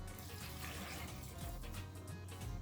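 Water runs and splashes into a cooking pan holding turmeric, a soft steady faucet-like pour with no talk over it.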